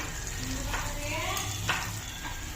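Garlic, onion and salt frying in oil make a steady, close crackling sizzle with a few soft scrapes of a spatula throughout.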